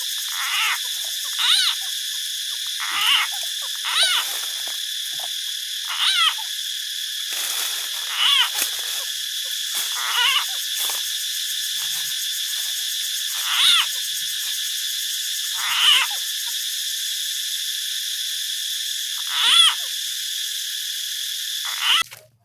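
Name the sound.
recorded bird calls played from a speaker to lure birds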